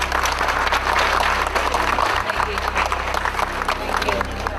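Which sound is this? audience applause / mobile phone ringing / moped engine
audience applause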